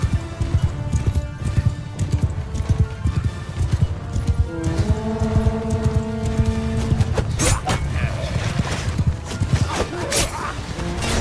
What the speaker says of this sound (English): Oh, their cavalry charged.